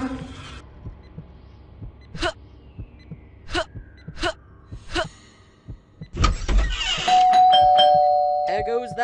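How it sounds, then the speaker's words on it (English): A doorbell in Scary Teacher 3D rings out in a few sharp, separate chimes, followed by a louder clatter and sustained electronic tones; a voice talks between the rings. "There goes that stupid bell again."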